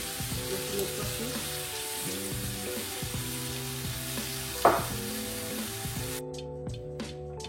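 A fish fillet goes into a sizzling seafood pot, with a steady frying hiss and crackle throughout, a brief sharp splash partway, then quieter bubbling, close by with no talk.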